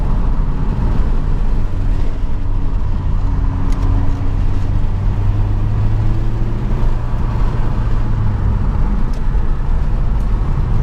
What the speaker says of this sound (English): Okay, so we're driving now.